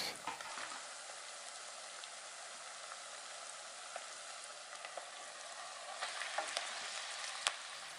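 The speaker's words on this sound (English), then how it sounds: "And I'll continually break up the mince, stirring it in and flipping it over so I can brown on all sides." Mince browning in a pan with softened onion and garlic for chili con carne, giving a steady close sizzle throughout with a few faint scraping stirs.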